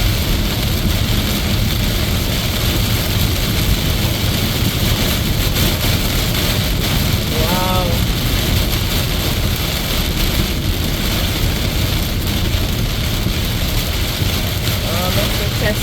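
Heavy thunderstorm rain pounds a moving car with wipers on max, a dense steady roar of rain and road noise filling the whole stretch without pause.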